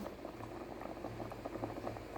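A thick red curry with fish bubbles and pops steadily in a pot, close by, with a constant low simmering rumble.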